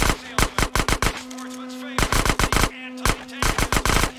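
AK rifle gunfire in GTA San Andreas comes in rapid bursts of sharp, loud shots, three clusters separated by brief pauses, with a steady game tone underneath.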